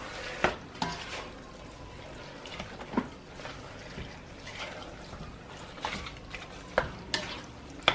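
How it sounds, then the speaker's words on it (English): A spoon stirs tomato lasagne sauce in a pan, steady scraping and sloshing with faint sizzling and occasional clinks against the pan, close and fairly quiet. "And then we're just going to give this a stir."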